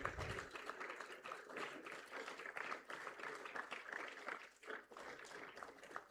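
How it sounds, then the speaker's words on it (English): Audience applause at a school proficiency award ceremony, a continuous crowd of clapping hands that dips briefly near the end, heard from a distance and fairly faint. "Please continue to clap as Avyan Todi comes up next to collect his academic award"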